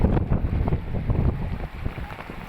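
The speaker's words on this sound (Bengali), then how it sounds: "দেখতে পাচ্ছেন অসংখ্য অসংখ্য বৃষ্টি আর বাতাস," Heavy rain and strong wind beat on a rooftop, a loud rough roar of buffeting gusts and dense rainfall close to the microphone, no voices.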